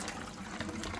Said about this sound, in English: what I'm going to do now is I'm going to drain them. So I'm just going to pour them into this colander